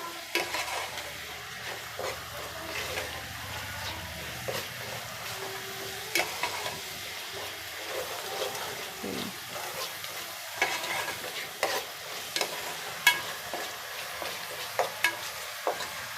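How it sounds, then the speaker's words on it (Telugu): Onions fry in a pan to a reddish brown before fish pieces go in, giving a soft, steady sizzle punctuated by repeated scrapes and clinks of a utensil stirring, close and without talk. "చక్కగా ఉల్లిపాయ బాగా ఎర్రగా వేగిపోవాలి."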